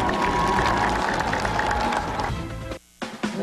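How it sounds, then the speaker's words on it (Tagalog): A large crowd in Rome applauds and cheers an Easter greeting, a dense, steady wash of clapping that fades and then cuts out briefly before a few more claps return. "Sila yung pumalakpak."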